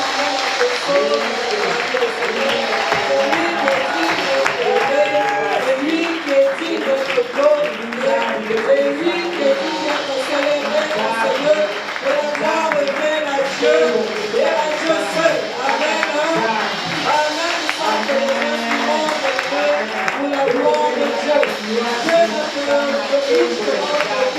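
A church congregation claps steadily in acclamation of the Lord, a dense, continuous rhythmic patter that fills the whole stretch alongside constant singing or speaking voices.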